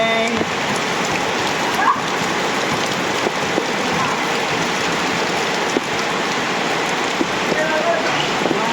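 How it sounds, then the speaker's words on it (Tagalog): Heavy rain pours in a dense, steady roar, loud and close, with scattered louder drops striking a surface throughout. "Heavy rain talaga, grabe."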